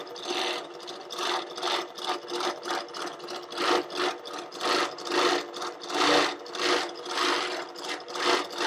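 A longarm quilting machine stitches steadily through a quilt, a close, loud rapid mechanical whir that surges and eases in a rhythmic pattern as the head is moved across the fabric.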